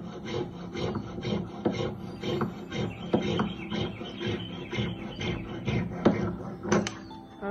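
A wax saw blade cuts through a jewelry wax carving block, giving a steady rasping, rubbing scrape in repeated back-and-forth strokes with a few sharper bites, close and moderately loud with no talking.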